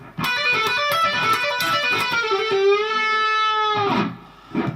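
A distorted electric guitar lick with a fast run of picked and legato notes that rises into a long sustained, bent note with vibrato. It ends on a short scrape, loud and close.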